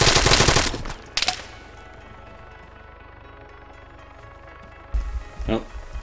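Automatic rifle fire in Arma 3 unloads a whole magazine in a rapid, loud burst, then a single sharp shot stands out before a quiet stretch, and a second burst erupts near the end.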